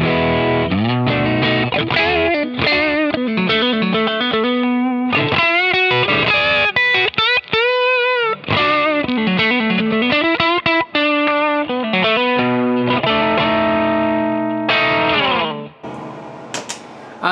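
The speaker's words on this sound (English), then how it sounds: "on the 3 switches, right here I actually have an overdrive sound" Overdriven electric guitar runs through a pedalboard's boost-style overdrive into an Atomic Amplifire, with gritty sustained chords and riffs, brief pauses and a loud, close tone throughout.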